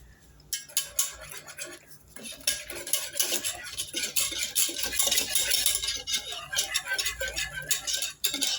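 A utensil scrapes and stirs a milk powder mixture in a metal pan, making busy, rhythmic scratching and clinking that runs almost continuously and close by.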